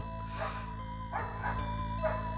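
Dog barking in Ys III: Wanderers from Ys on the Turbo CD, a few short yips over steady game music.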